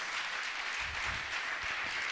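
Church congregation applauding during a sermon, a dense, steady wash of many hands clapping at once, filling the room for a brief stretch.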